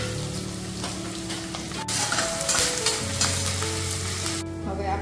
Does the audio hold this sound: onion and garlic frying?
yes